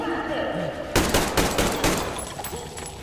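Rapid gunfire bursts from the video game Metro Exodus crack loudly in a quick string of close shots, with a voice talking faintly around them.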